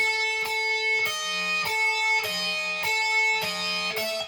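Plucked guitar notes ring out one after another in a steady pattern, each cleanly separated with no overlap, close and clear without any voices.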